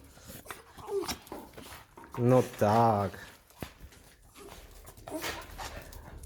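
Several dogs whimper and whine nearby in high, wavering cries, with soft panting around them, while someone talks briefly over them in an outdoor setting.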